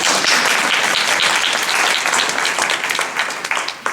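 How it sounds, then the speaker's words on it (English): Loud, sustained applause from an audience at a reproductive rights meeting in Rhode Island, dense clapping filling the whole stretch without pause and tapering only slightly toward the end. "Give yourselves a round of applause."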